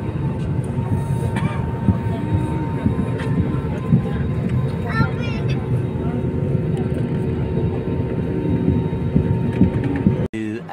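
Steady airplane cabin rumble during the landing approach into Kolkata, a constant low engine drone that holds throughout, with faint voices talking under it and a brief thump near the end.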